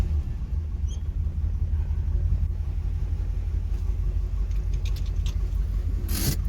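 A 1968 Pontiac GTO or 1964 Chevy Corvette engine idles with the clutch out, a steady low rumble close by, with a few faint metallic clicks near the end.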